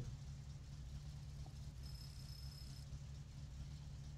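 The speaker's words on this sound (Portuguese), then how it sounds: "já melhorou a situação aqui do motor," A car engine idles after its tuning is adjusted in the video game My Summer Car, giving a steady, quiet low rumble that runs evenly throughout with no speech.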